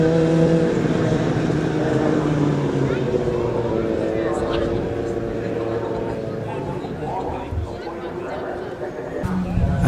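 A Kawasaki racing motorcycle, number 92, at the Manx Grand Prix Senior Race, drones loudly with a sustained high-revving engine tone under a commentator's voice talking throughout.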